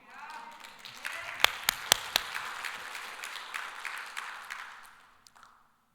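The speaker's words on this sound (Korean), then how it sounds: "하나님께 영광의 박수 올려야죠." A congregation claps during a Korean church service. Scattered claps with a few sharp, loud ones swell into brief applause, then taper off and fade to quiet.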